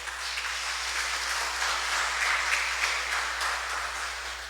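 A congregation at a Sunday Mass gives steady, sustained applause for its community, a continuous indoor wash of clapping over a faint low hum.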